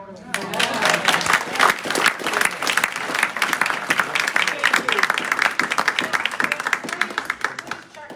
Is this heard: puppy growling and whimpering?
no